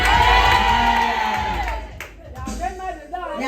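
A church congregation at a Sunday service shouts and cheers "Amen" together, a loud, close crowd of overlapping voices that fades, then scattered calls rise again.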